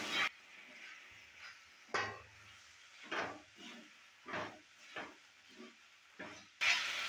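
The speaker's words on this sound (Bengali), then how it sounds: "তুলে নেওয়ার পর ভালো করে আবারও নেড়ে চেড়ে নিচ্ছে" A soybean and jackfruit curry is stirred in a pan after the lid comes off, with repeated spatula scrapes and light clinks against the pan in an irregular rhythm over a faint, quiet sizzle.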